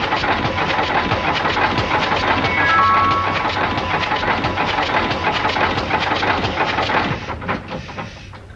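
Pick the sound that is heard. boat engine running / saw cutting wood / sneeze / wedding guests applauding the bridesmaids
boat engine running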